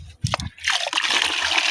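Water pours and splashes into a container of hydrogel for irrigation, a steady close gush that starts after a few brief knocks and continues without pause.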